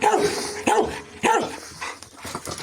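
A dog barks repeatedly in a yard, four or five sharp, loud barks in quick succession at close range with short gaps between them.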